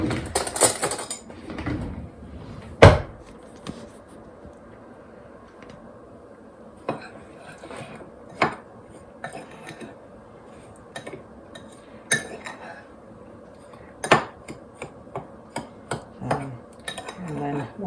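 Clear gel being mixed with sugar in a bowl for canning sweet and sour sauce, heard as a string of scattered clinks and scrapes of a utensil against the bowl, moderately close, one sharp knock early on, with no talking.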